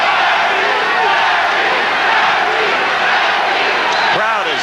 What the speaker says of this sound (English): Crowd is chanting